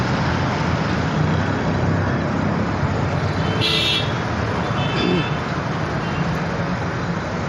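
Road traffic rumbles along steadily, with cars, buses and trucks passing close by. A brief bright hiss and a short horn toot stand out over the continuous noise.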